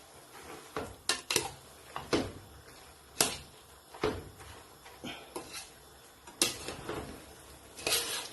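Egg noodles and king prawns are stirred in a pan, making irregular metallic scrapes, clinks and knocks of a utensil against the pan, some sharp and loud, separated by quieter gaps.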